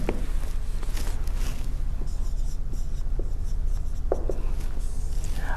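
Chalk or marker scratches steadily across a board during a maths lesson, with short tapping strokes and soft scraping that continue throughout at moderate loudness, and no talking.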